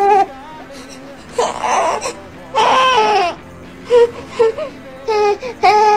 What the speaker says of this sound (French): il y a le son « eh » qui signifie que le bébé est mal à l'aise.